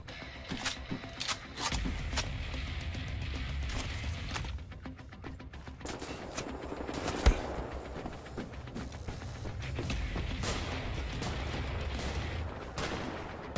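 Dual-wielded shotguns boom in Wolfenstein The New Order, sharp blasts spaced irregularly amid ongoing combat noise and a low rumble, with one especially loud close shot midway through.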